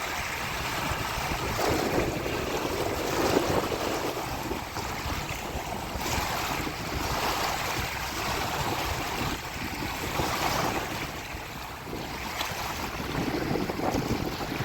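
Narmada river water washes and splashes continuously against the shore, with steady wind noise buffeting the microphone and no voices.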